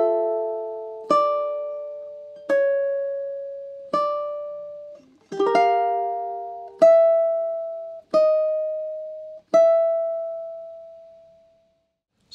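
Ukulele picking the melody of a theme from The Legend of Zelda: a slow series of single plucked notes and small chords, each ringing out and decaying, close and clean with no talk.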